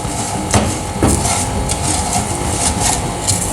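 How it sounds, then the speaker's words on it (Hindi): A spoon keeps scraping and stirring sugar as it melts and browns in a pan for halwa. The scraping is steady and close, with a few sharper taps against the metal. "आहिस्ता आहिस्ता हम चम्मच चलाते रहेंगे।"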